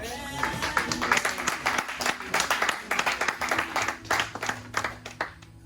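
A church congregation claps and applauds during a sermon, loud irregular bursts of clapping filling the room for several seconds before tapering off.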